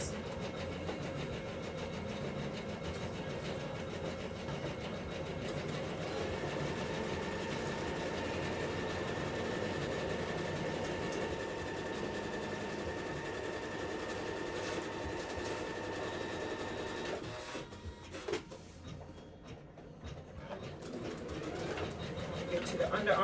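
Sewing machine stitching a 5/8 inch seam allowance on a garment lining, a steady close whir that runs for most of the stretch, then stops briefly before resuming.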